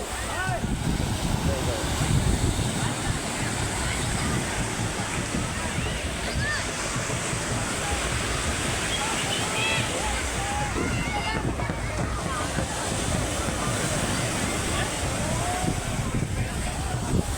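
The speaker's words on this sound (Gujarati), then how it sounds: "તો હું તમને દરિયાનો નજારો દેખાડો કેવો છે" Sea waves wash in a continuous roar, loud and steady throughout, mixed with strong wind buffeting the microphone, while people talk faintly underneath.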